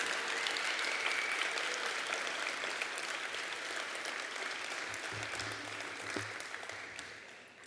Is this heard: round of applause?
yes